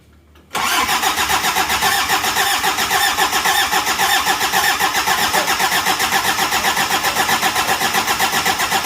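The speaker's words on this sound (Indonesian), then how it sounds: "Kita hidupkan mobil ini." A Daihatsu Taft GT engine, just rebuilt after overheating from lost radiator water, a scored cylinder liner and a seized piston, cranks and fires after a quiet moment, then settles into a loud, steady, close idle.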